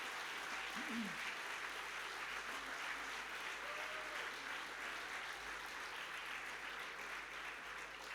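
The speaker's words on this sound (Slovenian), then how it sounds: "ki si za dobrodošlico zaslužita velik aplavz" A crowd at a political party's European rally gives sustained applause welcoming two new members of parliament, a continuous, even roar of distant clapping.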